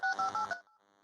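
Touch-tone keypad beeps as a phone number is dialed for a call to a historical museum, several crisp DTMF tones in quick succession followed by a faint tone.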